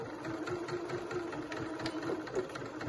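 A sewing machine runs steadily while stitching a drawstring bag, a quiet, continuous motor whir with a fast mechanical pulse from the needle.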